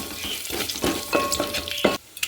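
Hot oil frying with tempering spices and garlic in a pan, a loud, close, continuous sizzle with occasional stirring scrapes and a few brief metallic clinks, without voices.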